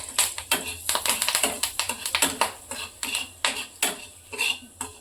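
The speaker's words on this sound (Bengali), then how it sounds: "এই যে কারি পাতাটা এটাতে একটু হালকা করে ভেজে নেব" Curry leaves are lightly fried in a pan, with rapid, close crackling pops and sharp ticks in uneven bursts, some sounding like utensil taps on metal.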